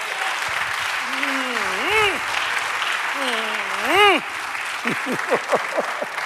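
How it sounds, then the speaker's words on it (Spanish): A church congregation claps in a steady wash of applause while a voice, rising and falling with laughter, carries over it. "Denle un aplauso al Señor."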